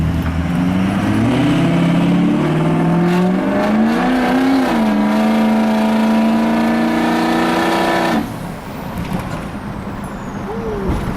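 A 6.0 diesel truck with the smoke switch on accelerates hard, its loud close engine drone climbing in pitch for about eight seconds before cutting off abruptly to a quieter idle.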